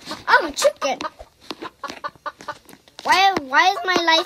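Chicken clucking from the Roblox video game, a run of choppy, rising clucks and squawks that ends in a louder, drawn-out cackle, mixed with brief voice sounds.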